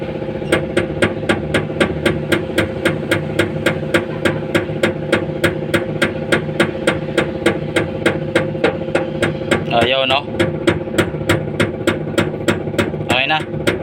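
A rapid, even series of sharp metallic taps on a noisy, faulty fuel pump in a Multicab, humming continuously throughout, with a couple of brief voices cutting in.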